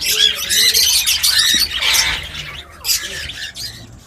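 Ringneck parakeet chicks, around 17 to 18 days old and just taken from their breeding box, squawk loudly and harshly in repeated close bursts, with brief pauses between calls.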